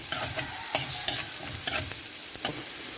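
Chopped onion fries in a little oil with a steady close sizzle while a utensil stirs and scrapes the pan in irregular clinks, with no talking.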